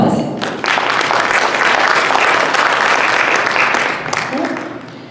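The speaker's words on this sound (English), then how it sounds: "Please give Dr. Fatima Mirza a round of applause" Applause from an audience greeting a speaker at a talk, swelling quickly after a brief voice, holding steady and then tapering off near the end, with faint speech underneath.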